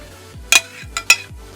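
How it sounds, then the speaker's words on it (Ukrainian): Marinated mushrooms stirred with dressing in a bowl, three short wet slapping scrapes spaced roughly half a second apart, close and loud with no talk. "Ось так перемішуємо це все."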